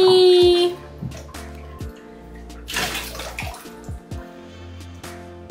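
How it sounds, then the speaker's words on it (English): Water running and splashing into a tub during a pet's bath, close and fairly loud, with intermittent gushes and drips rather than one steady stream. "It is bath time."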